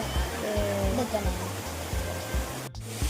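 A waterfall near Ernakulam roars in a dense, continuous rush of falling water close by, with a person's voice talking over the steady wash.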